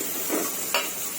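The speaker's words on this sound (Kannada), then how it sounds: "ಫಸ್ಟ್ ಗಣಕೆ ಸೊಪ್ಪಿದೆ ಸ್ವಲ್ಪ, ಅದನ್ನ ಒಗ್ಗರಣೆ ಮಾಡ್ಕೊಬಿಡೋಣ ಅಂತ ಇಟ್ಕೊಂಡಿದ್ದೀನಿ." Washed black nightshade greens being tempered in a hot pan give a steady, fairly quiet sizzle throughout, with a brief scrape of stirring midway and no voices.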